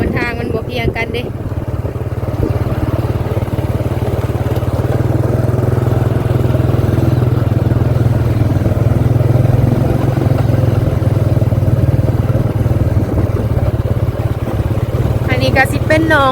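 A motorcycle is ridden on a dry road, its engine a steady, close, droning hum throughout, with someone talking over it.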